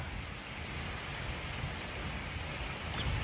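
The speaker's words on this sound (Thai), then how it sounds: "ฝนตกแรงมาก" Heavy rain falls in a dense, steady, even roar with no pauses, loud and close throughout.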